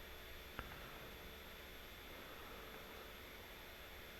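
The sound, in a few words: engine hum in video game Don't Scream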